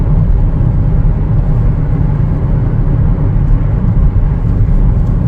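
A 2025 Chevrolet Trailblazer LT accelerates quickly, heard from inside as a loud, steady engine and road rumble that holds constant without breaks.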